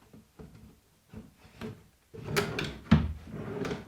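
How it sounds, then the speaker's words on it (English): A plywood drawer box slides into place on a workbench shelf, with soft wooden scrapes and knocks building to a firmer thud near the three-second mark, heard close up in a quiet space. "now when we slide this in place"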